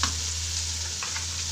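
Spices (salt, turmeric, cumin, red chili and coriander) are stirred in a frying pan for a rice dish. The oil sizzles loudly and steadily, with a few soft scraping strokes of the spoon near the end.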